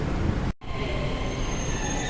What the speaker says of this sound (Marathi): तर आता मेट्रो आलेली आहे.